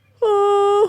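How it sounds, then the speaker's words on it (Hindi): A cartoon tree crying and wailing, one loud drawn-out moaning wail that holds an even tone for just over half a second before breaking off, heard close and on its own. "उन्हें किसी के रोने की आवाज सुनाई देती"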